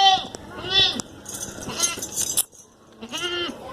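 A male goat bleats repeatedly at a busy livestock market, close and fairly loud, with a short pause before a final bleat and people talking in the background.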